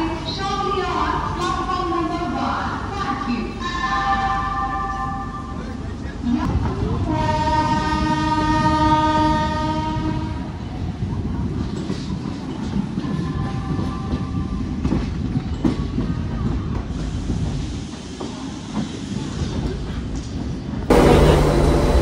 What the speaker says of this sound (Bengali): আর 2 নম্বর থেকে এই প্যাসেঞ্জার ট্রেনটাই কিন্তু ডিমাপুরের উদ্দেশ্যে যাবে।